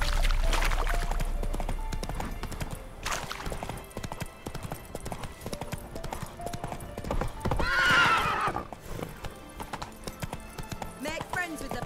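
Hoofbeats of the horse Roach clip-clop steadily through a video game scene, with a neigh rising around the eighth second, set against game music and a voice speaking over the action.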